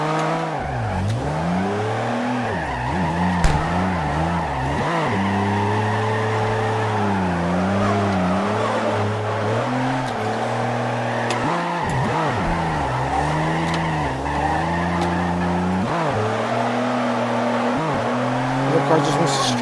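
Car drifting in CarX Drift Racing Online, engine revving and rising and falling in long sweeping pitch bends with sustained tire squeal, continuous and loud, with a voice talking over it.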